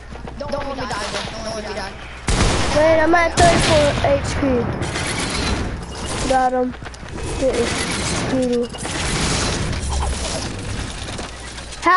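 Sniper rifle shots ring out in a Fortnite Creative match, several sharp, loud cracks spaced a few seconds apart, mixed with game effects while players talk excitedly over the action.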